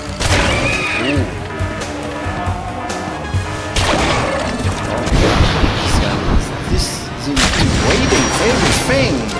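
Rapid bursts of gunfire from a weapon in the Men In Black Galaxy Defenders game, with crashing impacts and booms overlapping, loud and busy alongside game effects and a talking voice.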